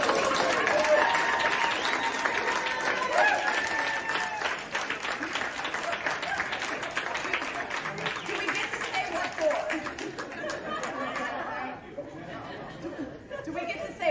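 Politicians cheer, clap and high-five one another in a lively group, with excited overlapping chatter and applause that stay loud, then thin out near the end.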